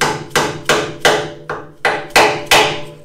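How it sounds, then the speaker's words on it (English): A metal tab is hammered over a bolt head while installing dune buggy front suspension, eight loud close metallic strikes at a steady pace, each ringing briefly. "take this little tab here, and we want to bend this over"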